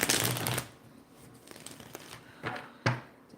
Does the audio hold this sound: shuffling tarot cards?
yes